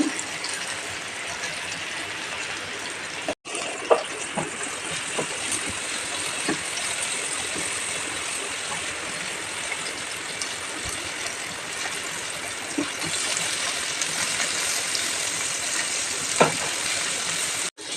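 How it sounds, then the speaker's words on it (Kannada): Tomatoes fry in a pan for soya bean sukka, giving a steady broadband sizzle that runs the whole time, close and fairly loud, with a brief break and a few faint scrapes of stirring. "ಸ್ವಲ್ಪ ಫ್ರೈ ಆಗಲಿ ಒಳ್ಳೆ ಫ್ರೈ ಆಗಬೇಕು"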